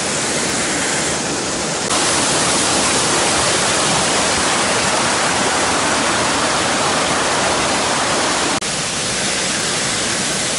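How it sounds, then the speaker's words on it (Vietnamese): Water pouring down the Ông Đổng waterfall in the rainy season, a steady loud broadband rush that fills the whole scene without pause, swelling slightly louder for a stretch in the middle. "Lượng nước đổ xuống vừa đủ này, khá hiền hòa."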